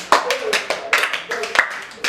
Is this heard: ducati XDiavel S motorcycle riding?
no